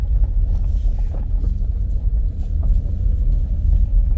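A car climbs a rocky road through the woods, a heavy, continuous low rumble with wind buffeting the microphone and no talk.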